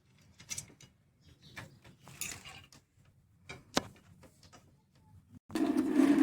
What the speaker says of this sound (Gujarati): અહીં નટ મારી દેવાની અને ટાઈટ કરી દેવાના